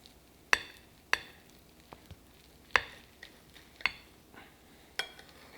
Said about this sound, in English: Let's get a knife. Okay, I'm gonna slice it in half